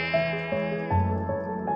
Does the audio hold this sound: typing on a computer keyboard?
no